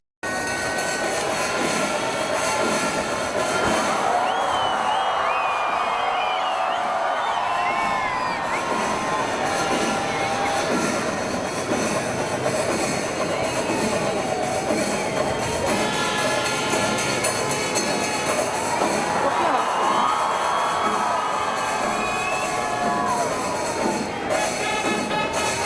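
Festival crowd cheering and shouting as a temple tusker raises its trunk three times in greeting at a pooram, a loud continuous roar of many voices throughout.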